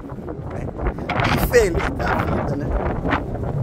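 Gusty wind buffets the microphone in a Katsuura port town where boats dock, a steady rushing roar that carries all the way through while someone talks over it.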